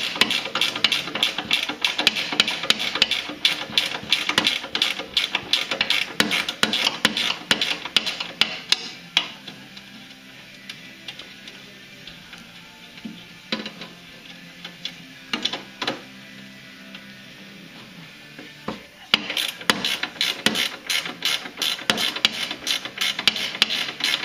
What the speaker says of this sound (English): The front of the rail, we've got the same thing, 10 millimeter wrench here.